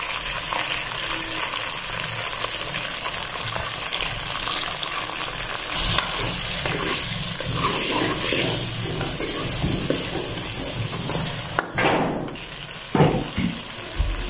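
Onions and tomatoes sizzle steadily in a hot pan, a loud continuous frying hiss with occasional stirring scrapes and clatter, close up.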